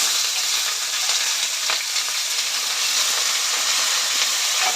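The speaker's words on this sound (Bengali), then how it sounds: "পেঁয়াজগুলো দিয়ে দিচ্ছি" Chopped onions hit hot spiced oil in a pan for a Bengali fish-head curry, giving a steady, loud sizzle and crackle with a few brief spikes, close and continuous without any talk.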